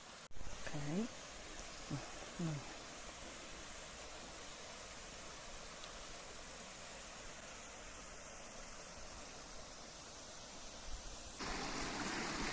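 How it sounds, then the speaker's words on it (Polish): Waterfall pouring from a Sardinian cliff straight into the sea, heard from the top as a steady broadband roar throughout, with a few brief voice-like sounds near the start. "Udało nam się podejść na sam szczyt wodospadu, tam gdzie spada on z klifu wprost do morza."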